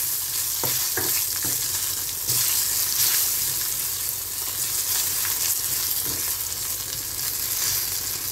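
Spices tempering (popu) in hot oil for tomato dal, a loud continuous sizzle and crackle with occasional sharper pops throughout.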